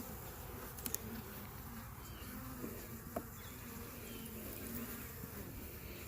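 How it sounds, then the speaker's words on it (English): Honeybees buzz during a hive inspection as the frames are worked, a steady, continuous drone that holds at a low, even level throughout with no talk over it. "You can hear the buzzing increasing."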